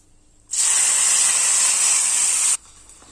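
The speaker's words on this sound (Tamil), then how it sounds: "இப்போ இந்த தாளிப்பை இந்த கடலைக்கறியில் ஊற்றிடலாம்" Hot tempering of dried red chillies and curry leaves poured into a pot of Kerala-style black chickpea curry, giving a loud, sudden sizzle that holds steady for about two seconds and then cuts off.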